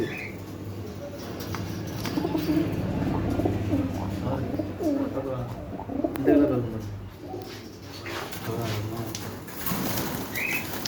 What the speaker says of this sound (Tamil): எவ்வளோ அழகாக உரும்புது. எந்த புறா இது?